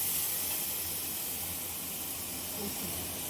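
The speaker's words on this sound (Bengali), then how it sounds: "পেঁয়াজটা তেলের মধ্যে ভালো করে ভেজে নেব।" Grated onion frying in hot oil for a curd and pointed gourd curry, a continuous close hiss and sizzle holding steady throughout, with no talking.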